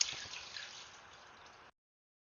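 Cold water splashes and trickles into a pot of rice, a close, bright running pour with faint drips that fades out after under two seconds.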